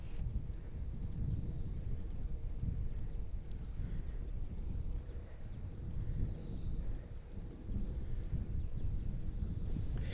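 Steady wind buffets the microphone during a bike ride along a flat lakeside path in Hamilton Domain, New Zealand, a continuous low rumbling roar with gentle gusts and no voices.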